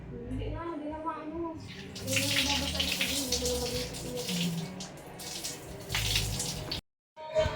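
Water pouring from a tap during a bath, a continuous splashing gush that starts after a few seconds and runs steadily, with voices and other household sounds underneath and a brief cutoff near the end.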